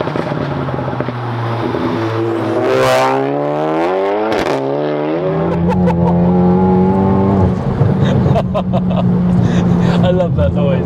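A 632 bhp Cupra 280 car revving hard, its engine note sweeping up and down through several loud rising pitches with a sharp burst midway, then settling into a strong steady drone, heard close.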